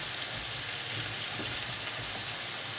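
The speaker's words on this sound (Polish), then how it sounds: "smażymy." Steady hissing sizzle of onion frying in a pan, continuous and close, with no talking.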